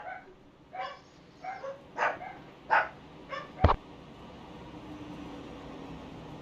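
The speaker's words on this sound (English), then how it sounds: "Sorry, little dog was going crazy there for a second." A little dog barking, about seven sharp yips in an uneven series at moderate distance, ending with a louder knock, followed by low background noise.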